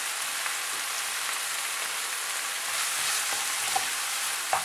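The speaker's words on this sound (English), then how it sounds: "And cook till the tomatoes are completely nice and mushy." Tomatoes with salt and coriander leaves cooking down in a pan for a spicy egg pepper fry masala, giving a steady close sizzle with a few soft stirring clicks and no voices.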